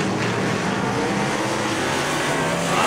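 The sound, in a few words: race cars racing on track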